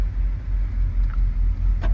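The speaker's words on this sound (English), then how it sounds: "Now that car that just pulled in is the oldest car we got. That's a 61." A 1961 car pulls in with a low, rumbling engine note close by, steady and unhurried, with a faint bump near the end.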